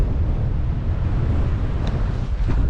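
Strong wind on a clifftop campsite roars steadily across the microphone, a dense, continuous rumble with gusty low-end buffeting throughout and no voices.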